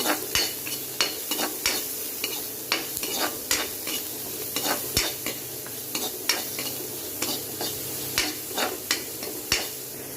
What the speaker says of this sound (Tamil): இப்போ இந்த ஸ்டேஜில் நம்ம ஆனியன் ஆட் பண்ணிக்கலாம் நல்லா வதக்கிக்கோங்க